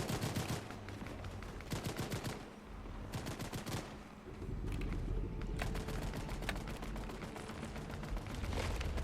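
Rapid automatic gunfire in Fortnite rattles out in several long bursts, loud and close, with short gaps between volleys and steady game ambience underneath.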